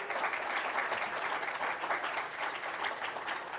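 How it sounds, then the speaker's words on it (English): Audience applause at a 3DEXPERIENCE World conference session after a panel conversation, a dense, even wash of clapping that holds steady throughout, with no talking over it. "Round of applause for these guys here."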